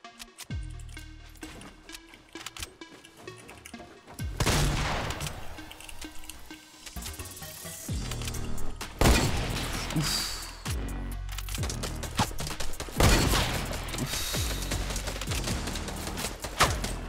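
Rapid bursts of gunfire from the video game Fortnite during a solo match, dense automatic volleys and single shots stacking up loudly across the stretch with mechanical clicks between them.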